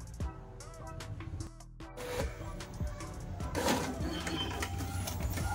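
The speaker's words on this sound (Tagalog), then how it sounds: "Okay, hintayin natin sa printer." An Epson L1800 inkjet printer runs a mirrored test print, its carriage and feed mechanism whirring and clicking in uneven bursts, fairly quiet and close, with no talking.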